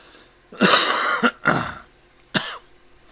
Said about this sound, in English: Here, I'll match your cough